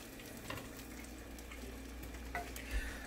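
Food sizzles steadily in a hot pan while a utensil stirs it, with a few scraping knocks against the pan, for a Cajun-style fried catfish meal; close, continuous frying noise with no talk.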